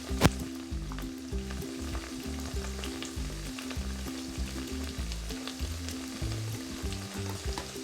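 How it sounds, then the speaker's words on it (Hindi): Okra browns in a hot pan with cumin seeds and turmeric, a steady close sizzle with rhythmic scraping stirs running throughout, no voices. "ये भिंडी हमारी ब्राउन होनी शुरू हो गई है। अब हम इसमें थोड़ा सा ज़ीरा शामिल करेंगे"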